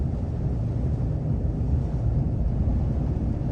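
Strong hurricane wind during Hurricane Milton, heard from inside a truck driving at about 40 mph, a steady loud low roar and rumble throughout with no talk.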